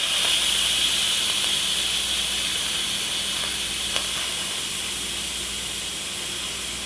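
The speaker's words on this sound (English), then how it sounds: "now we're just going to release the remaining steam" A loud, continuous hiss of steam escaping under pressure from an Instant Pot pressure cooker cooking navy beans, steady and high-pitched, easing off very slightly toward the end.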